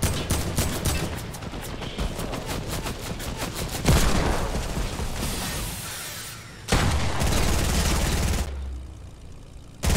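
Dense Fortnite gunfire rattles in rapid automatic bursts, loud and close, broken by brief pauses and heavier booming shots, with no voices over it.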